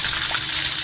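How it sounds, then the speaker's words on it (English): Snowmelt water rushing loudly and steadily through Dry Creek and into storm drains in Running Springs, San Bernardino County, a continuous close gushing roar. "Snowmelt is already surging into storm drains here in Running Springs and racing through Dry Creek."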